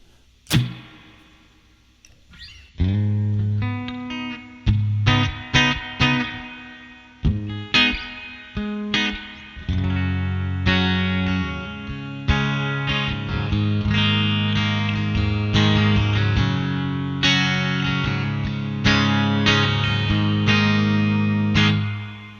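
An electric guitar plays strummed chords and picked notes through a Joyo Atmosphere reverb pedal on spring mode with decay turned up, each trailed by a long, washy reverb that lingers and blends the notes together.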